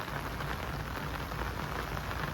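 Steady, dense rainfall pours down on a hard surface, a continuous broadband hiss of drops with no voices.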